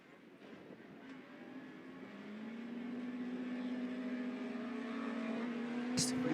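Stock hatch autograss race cars pulling away at a grass track race meeting in West Waterford, a distant engine drone that swells steadily louder and rises in pitch over several seconds.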